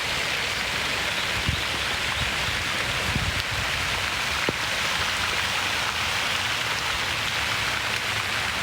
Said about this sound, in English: It's raining slightly.